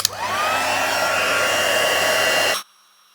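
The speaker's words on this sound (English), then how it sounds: "Going to heat that with the heat tool" An electric embossing heat tool blows over a handmade stamped Christmas card, a loud steady whooshing hum that starts abruptly, runs close and alone for about two and a half seconds, then cuts off.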